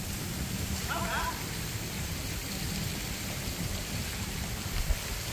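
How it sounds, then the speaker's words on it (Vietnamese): Heavy rain and wind sweep over a bridge at Mỹ Lợi, a constant hissing wash of downpour and gusting air that stays even throughout, fairly soft and with no clear speech. "Mưa gió quá trời luôn rồi"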